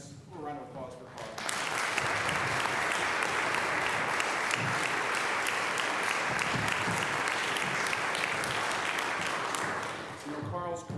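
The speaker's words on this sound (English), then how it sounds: "A round of applause for Carl." Sustained, dense applause from a concert audience at a brass ensemble performance honoring a soloist, starting abruptly and holding steady for about nine seconds before tapering off, following brief speech.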